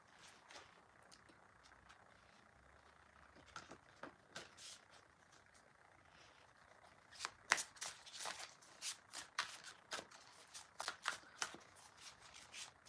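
Chakra Wisdom tarot cards being shuffled by hand, a quiet series of soft riffling bursts that grow denser and a little louder toward the end, with no talk.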